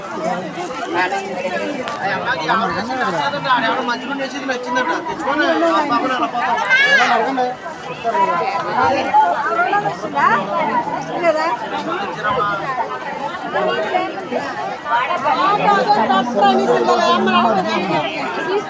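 Dense crowd chatter fills the Vadapalli Venkateswara Swamy temple grounds at one o'clock at night, many voices overlapping in a loud, continuous babble with occasional footsteps moving through.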